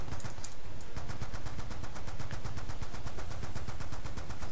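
Mounted machine gun firing in the Black Ops 2 campaign, a rapid, steady stream of loud automatic bursts from a boat, continuous and close throughout.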